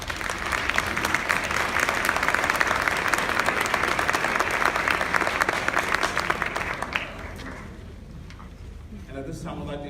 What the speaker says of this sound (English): please give them a quick round of applause.